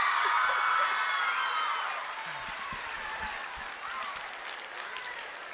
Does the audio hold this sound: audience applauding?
yes